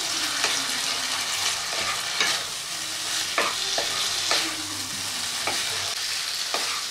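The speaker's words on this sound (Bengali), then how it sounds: "এবার ভেজে রাখা আলু পটলটা দিয়ে দেব, দিয়ে মশলার সাথে মিশিয়ে নিয়ে আরও কিছুক্ষণ কষিয়ে নেব।" Fried potato and pointed gourd sizzle with spices in a pan as a spatula stirs them. Sharp scraping strokes land in a loose rhythm over a constant close frying hiss.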